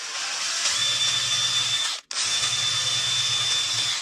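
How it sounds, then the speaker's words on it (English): Power drill with a Forstner bit boring eye holes into the sides of a wooden fishing lure, a close, steady whirring grind in two bursts separated by a brief stop. "I'm gonna get my Forstner bit and drill some holes on the sides for the eyes."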